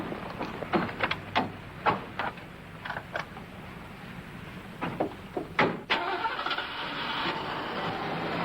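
A car engine cranks and catches with a series of sharp clunks and rattles, followed by a steady running hum, fairly close and without speech.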